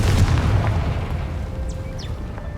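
A Confringo blasting spell goes off in a Harry Potter video game: a heavy, booming low-end burst right at the start, rolling on as a dense rumble with faint whooshing sparkle above, no voices over it.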